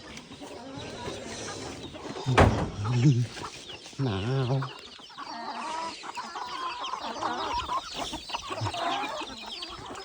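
Chickens cluck and squawk nearby, with a couple of sharp loud calls, while a person speaks briefly amid outdoor background noise.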